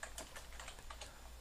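Fingers tap quickly on a computer keyboard while a track name is typed into PowerDirector editing software, a brief, quiet run of light clicking keystrokes.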